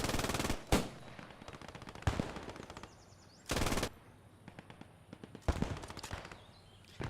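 Machine gun fire in the WWII shooter Post Scriptum during a custom one-life event: several loud, sustained bursts of automatic fire separated by brief pauses, with scattered distant shots and battlefield noise between them.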